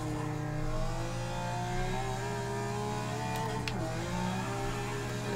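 A 1954 Jaguar D-Type in the Forza 6 racing game, its engine droning loud and steady as the throttle is eased on, pitch rising gradually with a brief dip near the end, no voices.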